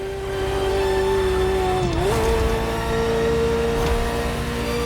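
A Ferrari sports car engine in the video game The Crew Motorfest holds a loud, steady, high-pitched tone, dipping briefly and then settling back into a close, sustained drone.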